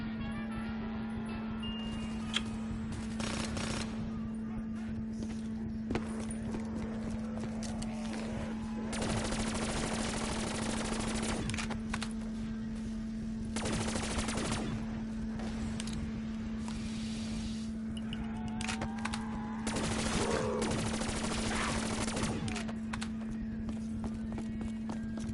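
Video game guns firing in rapid bursts and scattered single shots over a steady hum, with loud clusters of gunfire recurring throughout and occasional faint talk.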